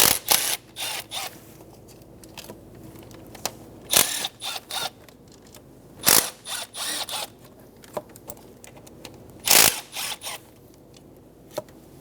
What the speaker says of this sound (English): Remove all 4 12mm bolts on the fuel rails.